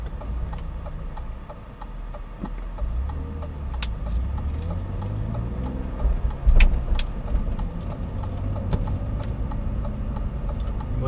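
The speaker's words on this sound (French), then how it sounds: "Le moteur est très discret au ralenti, pas de vibration, rien." A 2001 BMW 320i E46 with the 170 hp M54 straight-six idles quietly and smoothly, a low steady hum heard from inside the car with a faint regular ticking over it.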